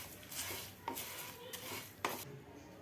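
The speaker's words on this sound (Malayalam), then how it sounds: "കറിവേപ്പിലയിൽ ഒന്ന് വാടി വരുന്നവരെ ഇളക്കി കൊടുത്തുകൊണ്ടേയിരിക്കണം." Curry leaves with chopped kudampuli are stirred in a pan until wilting, giving a soft steady rustle broken by a few sharp clinks of a spoon against the metal pan.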